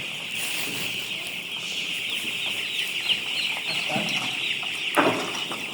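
Chickens clucking and murmuring steadily in a busy poultry coop during vaccination, with a constant high hum and occasional louder squawks.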